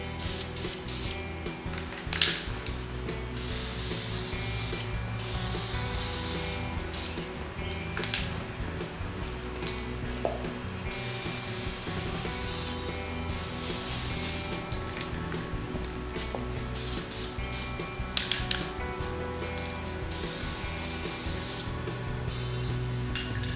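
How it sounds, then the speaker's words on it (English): Aerosol can of sandable primer spraying coats onto interior trim pieces, a continuous close hiss with brief pauses and a couple of sharp clicks, no talking. "We're going to be spraying 2 more coats of this on top of the piece."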